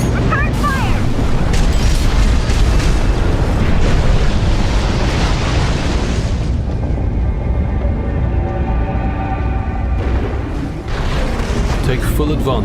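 Heavy combat explosions from the Armored Core VI video game boom and rumble densely with mechanical clatter, then ease into a quieter tonal lull before another burst, while voices talk over the action.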